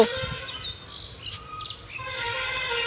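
Bulbuls chirp and tweet in short bright calls, fairly close, over a low background rumble with no talking.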